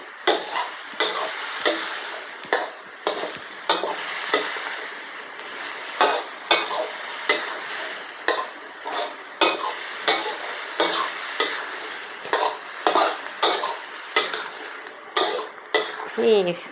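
Pork stir-fried with shrimp paste and stink beans in a pan, with repeated scraping stir strokes over a steady sizzle, close and moderately loud; a little quiet talk comes through.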